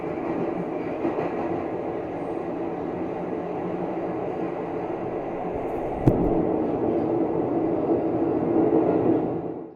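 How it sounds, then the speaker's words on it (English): A loud, steady simulated underground train rumbles and roars with a dense low hum, a sharp clack midway, and the noise swelling slightly near the end. "the simulated sound of a noisy underground train"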